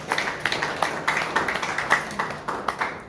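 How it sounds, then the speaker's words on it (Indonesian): A congregation claps at a Sunday worship service in a church, with sharp, fairly even claps in a loose rhythm that sound moderately close and run without talk. "Berikan tepuk tangan bagi Tuhan"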